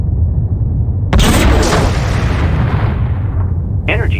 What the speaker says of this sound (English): Looks like the lead shuttle has locked its graviton cannon on the alien vehicle